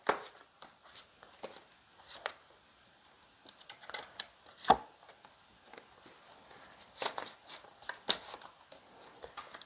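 Tarot cards shuffled by hand at close range, with soft riffling and patting bursts that come in irregular clusters and sit between quiet pauses, no talking.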